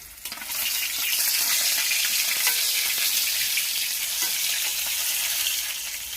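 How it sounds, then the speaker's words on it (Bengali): Rohu fish fries in a pan with a loud, steady sizzle of hot oil, crackling continuously close by with no voices. "এখানে রুই মাছ ভাজা হচ্ছে"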